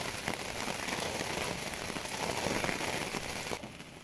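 Steady rain patters densely on a surface, a constant hiss of drops without pause, close and moderately loud.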